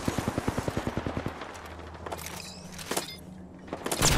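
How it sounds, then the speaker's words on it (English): Gunfire in the battle royale game Apex Legends: a fast burst of about a dozen evenly spaced shots, then scattered distant shots and game effects at moderate level. "They're shooting at me."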